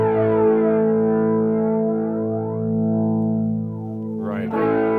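Electric guitar played through a TC Electronic Vortex flanger with the flanging cranked all the way up, sustained chords sweeping in a swirling jet-like whoosh, followed by a fresh strum near the end.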